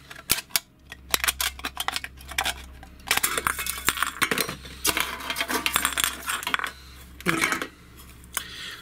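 Cutting an aluminium drink can with scissors to build a penny stove, a close run of sharp crinkling snips and metallic clinks in irregular bursts over a low hum, with no talk.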